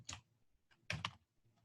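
Bursts of typing on a computer keyboard in a quiet office or meeting setting, a few close, faint clusters of key clicks separated by short pauses.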